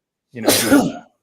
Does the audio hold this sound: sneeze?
yes